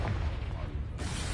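A Confringo blasting spell goes off in Hogwarts Legacy, a dull booming burst with a low rumble and a sharper surge near its end, under faint background noise.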